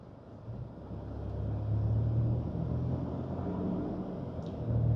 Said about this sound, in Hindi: हमारे ठीक ऊपर यहाँ पे NH8 है जो जहाँ से हम क्रॉस करें ठीक इसी के ऊपर NH8 का ट्रैफिक का मूवमेंट चल रहा है ऑलरेडी